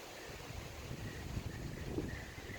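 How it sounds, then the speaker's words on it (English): Wind blowing outdoors during a floor yoga session, a steady low rumble with soft buffeting gusts, faint and continuous with no talking. "Very windy here."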